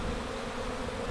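Honey bee swarm swirling before entering a box, a loud, continuous close buzzing drone of many bees with no pauses.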